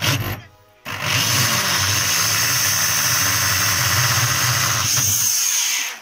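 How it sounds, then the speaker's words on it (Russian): A hole saw bores into a plastic canister, a loud continuous grinding whir after a brief start, running steadily close by until it stops at the end. "Сейчас дырочку сделаем."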